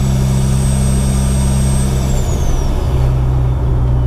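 A Mitsubishi Evo X fitted with a new turbo idles with a heavy, steady engine drone while a high turbo whistle holds and then slides downward as boost builds and falls away.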